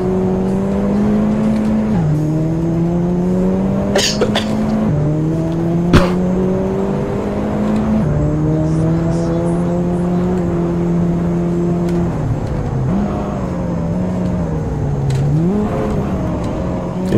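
In Assetto Corsa, a race car with an old, failing engine revs hard and steadily. Its loud drone climbs in pitch and drops back at each gear change, about every two seconds, with only faint background chatter.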